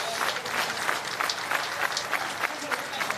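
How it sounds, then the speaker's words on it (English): A crowd at a padel tournament match applauds and cheers in an arena, a dense patter of clapping with recurring bursts, while a commentator talks over it. "See the crowd really getting excited as we have another golden point."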